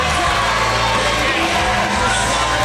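A Norwich crowd at a white-collar boxing event roars and cheers loudly and continuously as a boxer walks to the ring, the dense wash of voices filling the whole moment.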